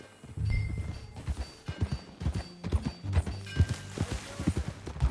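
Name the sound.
horse hooves while riding, from video game Red Dead Redemption 2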